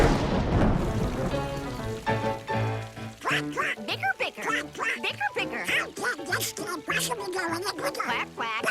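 Donald and Daisy Duck quack angrily back and forth in a Mickey Mouse cartoon, a loud rapid run of squawking bursts over busy music, with the quacks growing denser and more frantic.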